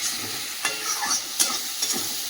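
Bitter gourd and potato pieces fry in a pan, giving a steady soft sizzle broken by a few sharper stirring scrapes, close up and with no talking.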